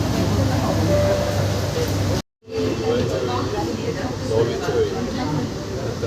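Steady rumble and whoosh inside a moving metro train, loud and continuous, broken by one brief cut in the middle, with indistinct voices murmuring underneath.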